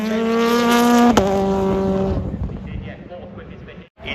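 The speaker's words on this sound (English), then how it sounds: "here now comes Dan Lloyd for restart racing." A race car screams past during a cloudy qualifying session at Snetterton, its loud harmonic engine note dropping sharply in pitch as it passes close by, then fading into rumbling track ambience while a commentator talks throughout.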